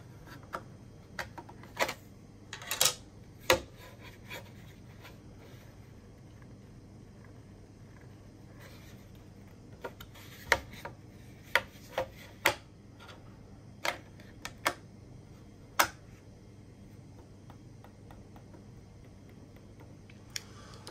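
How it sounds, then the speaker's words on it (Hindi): A Logitech Pebble M360 silent computer mouse gives soft, muted clicks in a quiet room, scattered singly and in small clusters over a low steady hum, with no talking. "सो आप ये सुनिए क्लिक और जस्टिफाई करिए माउस क्लिक्स"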